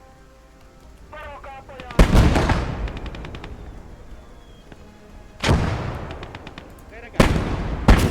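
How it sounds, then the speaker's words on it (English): Mortar fire in the video game Blood Red Snow: three heavy booming blasts spaced a few seconds apart, each with a long rumbling tail, while someone shouts over the battle. "It's all down to the mortar fire."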